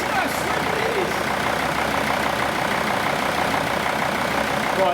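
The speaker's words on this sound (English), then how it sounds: "that engine fired up" A swapped engine runs steadily in a Mercedes ML W163, a continuous loud rumbling idle with no breaks, heard close up.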